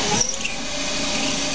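A drill bores into hex stock on a CNC lathe while making a BSA motorcycle part, producing a steady, close, grinding whine with a brief scraping squeal at the start and no talking.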